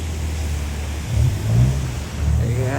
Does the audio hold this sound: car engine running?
yes